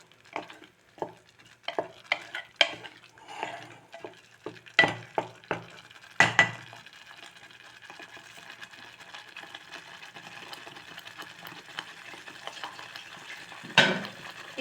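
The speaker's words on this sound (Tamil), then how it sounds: "ரெண்டே ரெண்டு நிமிஷம் நல்லா வதக்கிட்டு" Vegetables sauté in a pan for a vegetable kurma, with sharp, irregular clacks of a spoon stirring and scraping against the metal over a steady, soft sizzle that carries on alone after the stirring stops.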